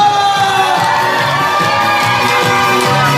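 A crowd cheers and shouts loudly and continuously alongside live music while a singer performs at a community gymnastics contest in Gwangyang, South Korea.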